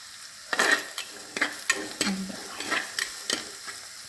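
Ingredients for a fish curry sauté in a pan with a soft, steady sizzle, broken by repeated scraping strokes as the mixture is stirred up close.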